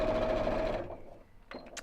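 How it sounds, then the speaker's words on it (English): A sewing machine stitching down the sides of small cork fabric tabs, a brief fast whirring run that stops after under a second, followed by a couple of faint clicks. "I'm just sewing down each side of these little tabs"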